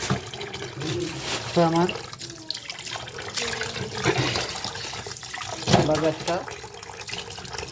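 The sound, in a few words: tap water running while washing fish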